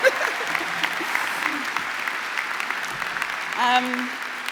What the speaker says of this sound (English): Can you give yourselves a round of applause for the catwalk